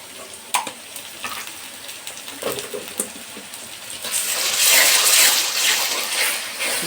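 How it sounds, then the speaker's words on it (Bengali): Garlic and ginger paste sautéing and being stirred in a hot pan for a khichuri and chicken meal, with a steady sizzle that swells louder midway, along with occasional utensil scrapes and clicks. "প্রথমে কষাইতে হবে, এভাবে কষাইতে হবে।"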